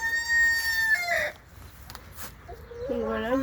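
Hens cluck and a rooster crows close by on a small French poultry farm, a long drawn crow followed by a short pause and then a rising, choppy burst of clucking.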